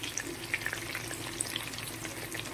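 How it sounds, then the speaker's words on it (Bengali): Potatoes frying in a pan with turmeric, giving a soft, steady sizzle with light crackles and small pops throughout, fairly quiet and close. "আলুগুলোকে এবার ওপর থেকে একটু হলুদ দিয়ে আমি একদম লাল লাল করে ভেজে নেব"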